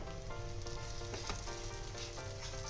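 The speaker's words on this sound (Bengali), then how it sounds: "এইভাবে আমি প্রতিটা চিলা বা পরোটা যাই বলো না কেন আমি ভেজে নেব" Cucumber chilla fries in a pan with a steady, quiet sizzle and crackle of oil, continuous and close with no talking.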